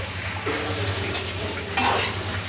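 Masala being stirred into squid frying in a pan, a soft scraping stir over steady sizzling, with one sharper clink of the utensil partway through.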